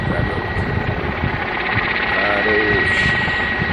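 A helicopter hovers over the Mir open-pit diamond mine during a miners' rescue, its steady rotor drone and engine hum continuous and fairly loud, with wind noise around it.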